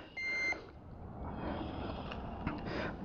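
One short electronic beep from a cable fault locator, a steady tone lasting about half a second, sounds over a rough outdoor background rumble.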